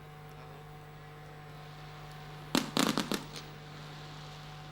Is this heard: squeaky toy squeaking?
no